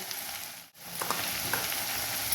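Spices, including goda masala, hit hot oil in a frying pan for mixed vegetable bhaji, giving a close, steady sizzle with a brief dip and light stirring sounds.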